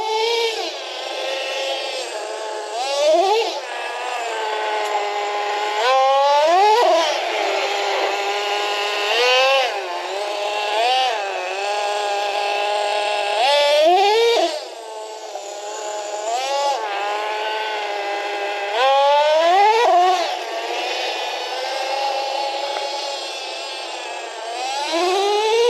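The small nitro engine of a Traxxas T-Maxx RC car, running rich after a fuel change, screams at high pitch. It revs up and settles back again and again over a steady whining idle.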